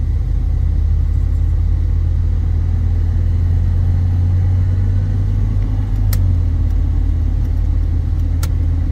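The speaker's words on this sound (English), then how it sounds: "these mud tires, they do make a little bit of noise, but they're actually pretty quiet" A 1989 Chevrolet C/K 1500 pickup on mud tires rolls along at steady speed, giving a continuous low road rumble and engine drone with a couple of faint high ticks near the end.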